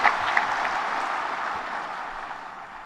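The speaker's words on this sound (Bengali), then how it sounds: "আমরা সবাই মিলে আবার হাততালি দিয়ে জোরে হাততালি দিয়ে অভিনন্দন জানাচ্ছি" Audience applause breaks out at a National Tree Fair 2025 speech event, a steady wash of clapping from a crowd that holds evenly for about three seconds with no voices over it.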